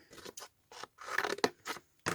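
Small scissors snip through cardboard in a series of short, crisp cutting bursts close by, separated by brief pauses.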